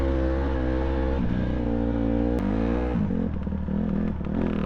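A dirt bike engine revs hard and steadily through deep sand on a tight trail, close and loud, with a dense, sustained motor drone that shifts in pitch as the throttle is worked.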